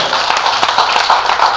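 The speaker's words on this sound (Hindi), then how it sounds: "तालियां बजाइए प्रीति।" Audience applause at a Hindi comic poetry recital, a dense steady patter of many hands clapping close by for the whole moment.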